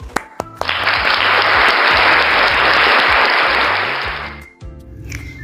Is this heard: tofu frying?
no